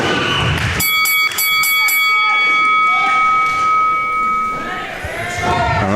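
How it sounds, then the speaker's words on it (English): During a wrestling match, a ringing bell strikes several quick, bright clangs in succession, leaving a sustained ring under crowd noise and commentary voices. "the bell just rang there"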